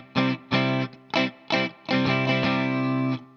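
An electric guitar with chorus and distortion-style effects plays a strumming pattern for a song, with a few short separated strums followed by one longer ringing strummed phrase, all loud and close with no talking.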